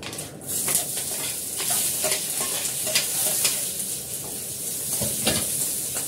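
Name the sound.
green chilli and onion frying in a little oil for chowmein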